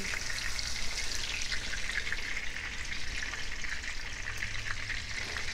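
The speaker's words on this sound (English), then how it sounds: "we're gonna just brown these on each side" Country style ribs browning in a hot pan give a steady, close sizzle and spatter of frying fat that runs unbroken the whole time, with no talking over it.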